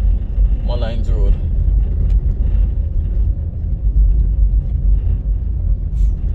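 A car drives along a residential road, its engine and road noise forming a steady low rumble throughout, with a brief voice near the start.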